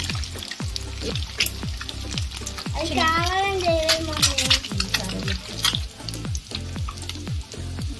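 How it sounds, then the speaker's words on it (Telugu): Eggs frying in oil for a village-style masala egg curry give a steady close sizzle with repeated clicks of a utensil, while a voice speaks briefly over the cooking. "ఎగ్స్ సగం వరకు వేయము కొద్దిసేపు"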